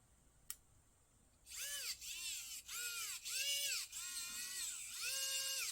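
A SEQURE ES666 electric screwdriver's small motor whines in repeated bursts, its pitch rising and dipping as it alternates between unscrewing and screwing, close and fairly loud after a faint click at the start.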